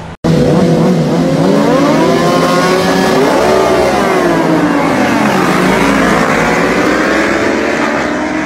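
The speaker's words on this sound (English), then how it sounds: "get some cool footage of the bike on track, and so you can kind of see what it sounds like" SBU 2019 superbike lapping a race track at Roebling Road, a loud, close onboard engine howl that rises and falls in pitch through gear changes and corners for several seconds.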